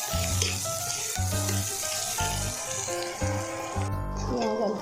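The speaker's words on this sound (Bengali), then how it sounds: "পেঁয়াজ অল্প ভাজা হয়ে গেছে।" Chopped onions fry in a pan for egg chowmein, giving a steady sizzle while a utensil scrapes and clinks in repeated rhythmic stirring strokes.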